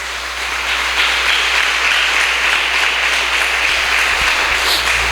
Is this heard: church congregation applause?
yes